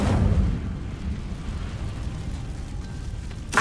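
A fire spell cast in Hogwarts Legacy bursts out as a loud whooshing roar at the start, then settles into a low rumbling flame that holds steady before a brief flare at the end.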